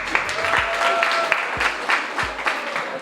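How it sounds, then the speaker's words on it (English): An audience at the Runway Dubai 2021 fashion event applauds the fashion designers, dense continuous clapping with a few sharper claps standing out, fairly loud and close. "Applause for the ladies."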